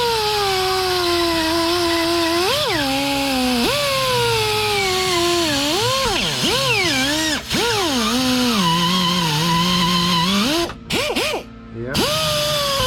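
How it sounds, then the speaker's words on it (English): A power tool whines steadily as it deburrs a freshly cut part in a workshop, its pitch rising and dipping as the load changes, then briefly cutting out near the end. "I'm gonna do a little deburr"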